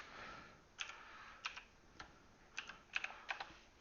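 Login username and password typed on a computer keyboard, quiet close key clicks in short irregular bursts with small pauses between, no talking.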